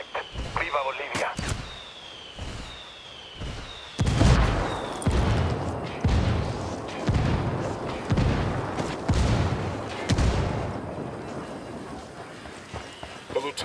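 Artillery barrage in the video game Ghost Recon Wildlands: a series of heavy booming impacts and rumbling blasts, loud and closely spaced, with voices talking over the bombardment.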